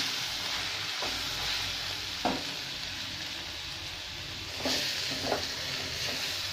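Onion roasts and browns in a pan while cooking for a black masala paste, giving a steady close sizzle broken by a few soft scraping stirs.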